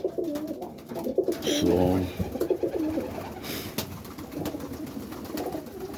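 Pigeons in a breeding loft coo softly and repeatedly, with wing flaps and shuffling nearby as someone speaks briefly.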